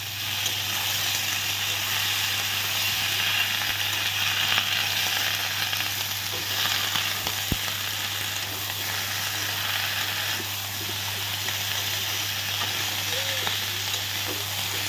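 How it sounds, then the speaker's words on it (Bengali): Fresh bottle gourd shoots sizzle steadily in a hot pan with oil as they are stirred and sautéed, a constant loud frying hiss with faint occasional scrapes, no talking. "লাউডাগা এখন ভালো করে আমি নাড়াচাড়া করে একটু কষিয়ে নিচ্ছি"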